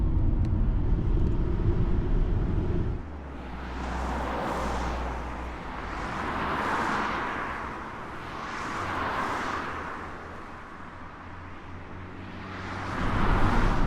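Car driving along a mountain road in southwest Serbia: a steady engine and road rumble from inside the vehicle, with broad tyre and wind noise swelling and fading in slow waves, no talking.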